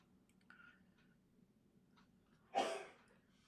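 A single sneeze bursts out sharply at moderate distance, a brief loud broadband burst that stands alone above low room hum in a quiet painting studio.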